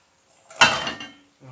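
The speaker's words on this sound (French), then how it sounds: "On ajoute ensuite les carottes." Carrots tipped into a pan of nearly melted butter over very low heat: a single clattering burst of vegetables hitting metal, loudest at first and then trailing off, with a faint clink just after.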